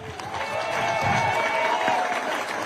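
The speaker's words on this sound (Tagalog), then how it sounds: "Palakpakan nyo naman ang slate ng PDP laban senatorials" A rally crowd applauds the PDP Laban senatorial slate with dense, sustained clapping and cheering. Voices mix into the loud, steady wall of crowd noise.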